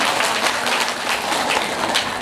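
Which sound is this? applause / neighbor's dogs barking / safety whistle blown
applause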